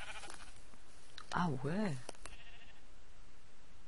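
Sheep bleating in the Minecraft video game, a single wavering in-game bleat with a few pulses, heard over a quiet background while someone speaks briefly in French.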